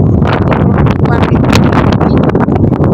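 Wind blows strongly outdoors beside a car on a rural holiday road trip, a loud, steady broadband roar with gusty buffeting across the whole stretch and no voices.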